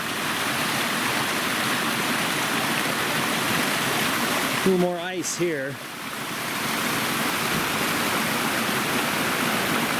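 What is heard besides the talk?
North Fork of Lone Pine Creek flowing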